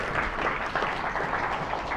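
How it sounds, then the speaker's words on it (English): An audience claps for a speaker at the close of a machine learning talk, producing a dense, steady wash of applause that holds at a constant level for about two seconds with no voices over it. "one more applause for Niels"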